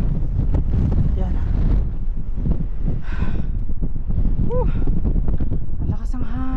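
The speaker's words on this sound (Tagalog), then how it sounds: "Ang lakas ng hangin." Strong wind buffets a microphone outdoors on a grassy roadside spot in New Zealand, a loud continuous rumbling roar, with a voice talking through it in bursts.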